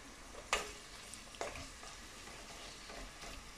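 Onions, garlic ginger paste, bay leaves, cinnamon sticks and cardamom frying in a pot for a Bengali lamb chop curry, a soft steady sizzle with two sharp clinks of a spoon against the pot, close and quiet.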